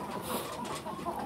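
Embrapa 051 hens cluck in a henhouse, with soft, scattered clucks and faint rustling at moderate distance and no speech.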